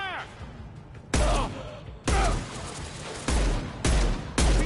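Heavy gunfire in a Mass Effect 2 fight: five loud, booming shots at uneven intervals, each with a sharp attack and a rumbling tail, while voices shout in between.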